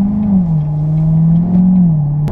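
A 2017 Corvette Stingray Z51 with an automatic transmission drives off. Its engine gives a loud, steady, low rumble close by that swells slightly, with no talking.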